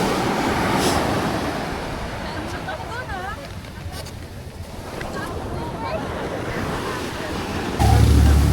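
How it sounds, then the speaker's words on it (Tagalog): Strong ocean surf and wind buffeting the microphone aboard a small boat off Zambales, a steady roaring wash under people talking, with a louder gust near the end. "Yan, grabe lakas sa alon."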